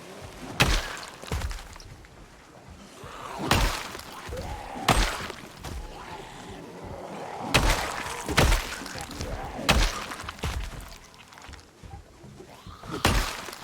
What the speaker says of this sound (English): It still sounds like a lot of them banging on something.